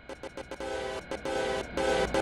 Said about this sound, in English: There the train comes from the left.